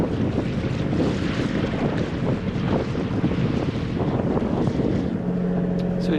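A boat motoring under engine power along the coast beside the Mourne Mountains, after leaving Carlingford Lough, gives a constant low engine drone mixed with heavy wind buffeting and water rush, loud and unbroken.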